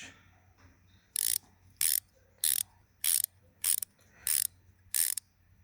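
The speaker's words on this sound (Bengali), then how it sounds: "এখন নাটগুলো টাইট দিলেই কাজ শেষ" Seven quick bursts of ratcheting as a wrench tightens the nuts on a motorcycle carburetor fitting, evenly spaced, close and crisp over a quiet background.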